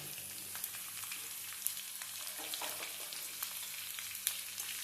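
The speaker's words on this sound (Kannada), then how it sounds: "ಈರುಳ್ಳಿ ಹಾಕ್ಕೊಂಡು ಚೆನ್ನಾಗಿ ಫ್ರೈ ಮಾಡೋಣ." Chopped onions fry in oil with green chillies, giving a faint, steady hiss with scattered light crackles and occasional soft ticks of stirring, quiet and without any voices.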